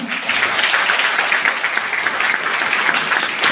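Loud, sustained applause from an audience honoring two mentors, dense steady clapping filling the whole stretch without any speech over it.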